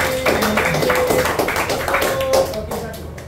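A small group applauds Farid in a classroom, a brief burst of scattered hand claps mixed with voices that tapers off after a few seconds.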